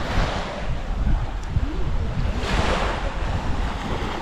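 Ocean waves wash onto a beach at Quang Na Bay on southern Phu Quoc island, Vietnam, a steady loud surf roar mixed with wind buffeting the microphone, no voices.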